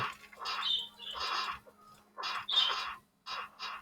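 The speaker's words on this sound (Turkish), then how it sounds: "Muhabbet kuşunun sesi geliyor mis gibi." Bright, scratchy chirps and squawks from a budgerigar come in quick bursts with brief pauses, close by and fairly loud.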